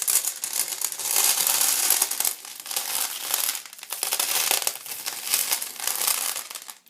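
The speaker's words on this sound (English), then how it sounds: "So I'm just going to dump at least 1 bag in here." A bag of small white rocks pours into a shadowbox frame, a loud, continuous crunching and rattling cascade that rises and dips in waves as the stones tumble and settle.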